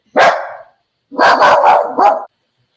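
Dogs bark close and loud, with one sharp bark, a pause, then a quick burst of about four barks in a row, with no talking over them.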